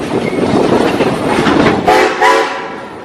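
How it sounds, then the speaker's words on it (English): At Silver Dollar City, a train whistle sounds in two short toots near the end, over the steady rumble and clatter of a moving train. "give me 3 toots on that whistle"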